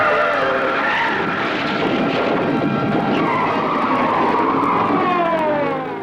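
A car's tires skid loudly and continuously as it spins a full 180 on a narrow road, a sustained squealing screech lasting several seconds.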